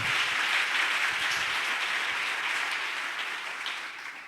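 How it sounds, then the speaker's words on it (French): A congregation at a French-language church service applauds and cheers for the preachers, with steady, dense clapping throughout that fades slightly toward the end. "Acclamez pour les prédicateurs."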